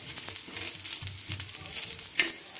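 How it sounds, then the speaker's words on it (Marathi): Masala and vegetables roasting together in a pan for a spicy Marathwada-style dish: a close, busy sizzle broken by repeated scraping stirs, with no talking. "वेगळ्या भाजल्यापेक्षा एकदाच म्हणजे सोबतच हा मसाला भाजून घ्यायचा आहे वन बाय वन।"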